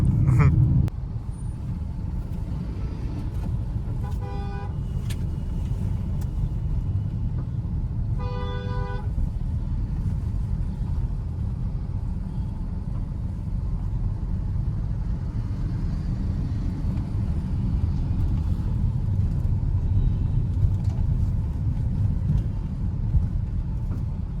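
Taxi car moving through Navi Mumbai city traffic, a steady low engine and road rumble heard from inside the cab, with two short bursts of horn honking from nearby vehicles partway through.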